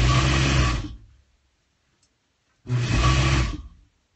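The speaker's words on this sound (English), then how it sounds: "now we sew on our outside piece and we're almost done" Sewing machine stitching the outside piece of a rag quilt pillow sham, two close, loud runs of steady motor hum, each about a second long, separated by a short silent pause.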